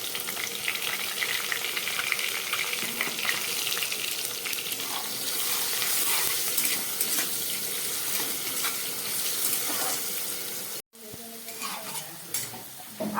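Potatoes seasoned with salt and turmeric fry in hot oil with a steady, loud sizzle and occasional stirring scrapes, broken by a brief cut near the end.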